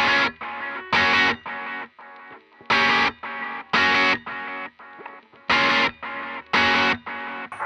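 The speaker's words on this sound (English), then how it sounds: "it goes into a very carefully timed delay, which is in the verse and sounds like this" Distorted electric guitar through a precisely timed delay effect, rhythmic bursts of chords with repeating echoes stepping in a steady pattern, loud and alone with no talking.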